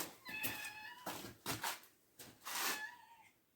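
A cat meows several times in short, clear cries, close by and fairly quiet, with brief pauses between calls.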